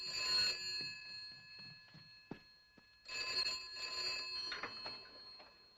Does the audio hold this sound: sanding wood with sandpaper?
no